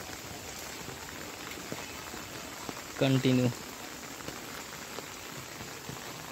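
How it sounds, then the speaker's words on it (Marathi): Heavy rain pours down on a road in Nagpur, with water running along the surface, a constant wash of sound interrupted once by a brief spoken word. "म्हणजे इतकं हेवी रेन"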